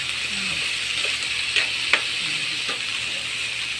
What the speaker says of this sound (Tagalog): Yan lang, konting gisa-gisa lang yan.